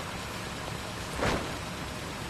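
Steady broadband rain hiss from the Metal Gear Solid Peace Walker video game, continuous and moderately loud throughout, with a brief swell of noise near the middle and no speech.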